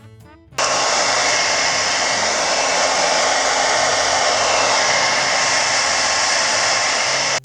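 A hair dryer switches on abruptly and blows loudly and steadily at close range, quick-drying paint on a page of a drawing book, with no voices.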